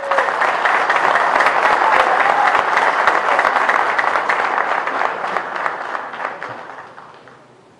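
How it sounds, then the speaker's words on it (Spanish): Sustained crowd applause at a Bolivian workers' union event, dense steady clapping that holds strong for several seconds before gradually fading out at the end. "al compañero Félix Nina Carrillo, para quien pido un aplauso, por favor"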